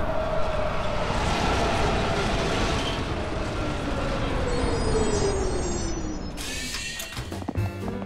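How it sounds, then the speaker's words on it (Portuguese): A cartoon subway train arrives, a long rumbling roll with a falling squeal of brakes, then hisses and clatters as it settles at the platform. "O trem chegou."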